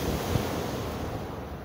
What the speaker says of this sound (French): C'est comme la mer là qui bouge derrière moi, les vagues.